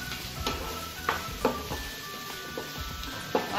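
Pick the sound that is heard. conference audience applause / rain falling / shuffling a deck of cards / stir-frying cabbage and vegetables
stir-frying cabbage and vegetables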